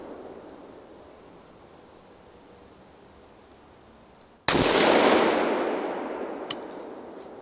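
A single loud rifle shot cracks at a young doe during a driven hunt in Germany, sharp onset followed by a long decaying echo over a quiet outdoor background, with a faint click shortly after.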